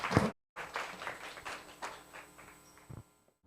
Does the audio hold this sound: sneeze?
no